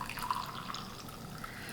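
Masala chai being poured into a cup at home, a soft, close liquid trickle with light dripping under faint room noise, brief and steady without speech.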